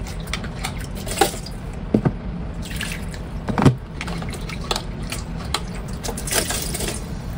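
Mineral water poured to rinse a baby bottle sterilizer, with soft drips and splashes plus occasional light clinks of plastic parts, close and quiet against a steady background hiss.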